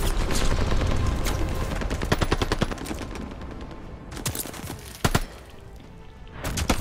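MP40 submachine gun fire in Call of Duty Vanguard multiplayer comes as rapid, close automatic bursts, a long rattling string followed by shorter bursts separated by brief pauses.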